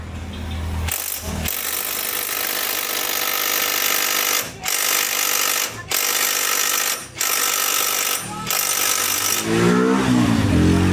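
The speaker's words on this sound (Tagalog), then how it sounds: "Malakas na impact na yung ginagamit pero wala pa din." An impact wrench hammers at a stuck car bolt in a loud, continuous rattling burst, broken by several brief pauses between bursts, close to the microphone.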